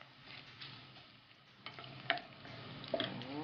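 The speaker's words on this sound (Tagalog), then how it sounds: "Ginigisa natin sa sarili niyang mantika." Shrimp paste sautés in its own oil in a pan, a soft continuous sizzle broken by a few scraping stirs, close and moderately quiet, without speech.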